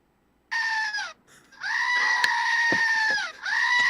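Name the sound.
screaming goat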